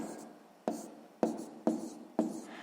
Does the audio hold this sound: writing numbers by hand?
yes